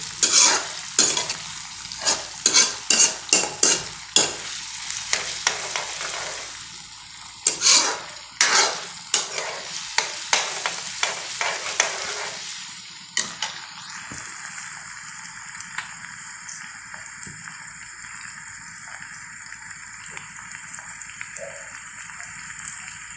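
Ginger frying in a hot pan while being stirred, with a string of loud scraping stirring strokes over a steady sizzle that eases into quieter, even frying.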